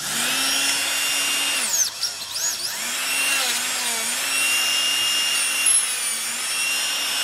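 A 775 DC motor runs straight off a power supply with a high, steady electric whine, briefly loading down and dipping in pitch when something presses against it to slow it, then spinning back up to full speed.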